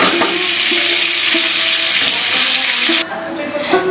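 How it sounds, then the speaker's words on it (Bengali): Chicken pieces fry in a pan for a potato chicken curry, a loud, steady sizzle up close with intermittent scraping and clinking of a spatula against the pan, then a brief quieter moment before stirring resumes. "এই মাংসগুলো এবার তুলে নিয়ে বাকি সব মাংসগুলো একেবারে ভেজে নেব।"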